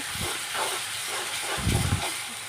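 Onions sizzle in hot oil as they are stirred, the start of a cauliflower and prawn curry. A continuous hiss carries throughout, with two short, heavier bursts of scraping and crackling.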